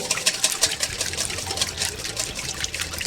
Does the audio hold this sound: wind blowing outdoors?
no